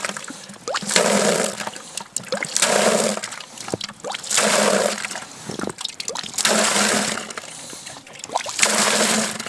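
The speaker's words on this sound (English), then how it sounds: "This is just a simple pump called an EMAS pump." An EMAS hand pump draws water from a spring-fed well at an off-grid cabin, with about six rhythmic gushing pulses of water, each one splashing and gurgling and separated by short gaps between strokes.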